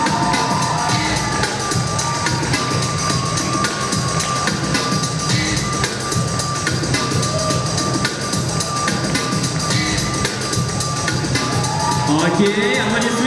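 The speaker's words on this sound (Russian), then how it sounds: "Окей, аплодисменты" An audience at a guest fashion-show runway event at AvaExpo 2015 breaks into dense applause and cheering that fills the whole stretch, a sustained wash of clapping with scattered shouts and possible voices mixed in.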